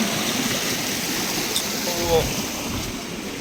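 A rocky forest stream in a deep jungle on a rainy day rushes steadily over large boulders, a continuous broadband wash of flowing water close by with no pauses.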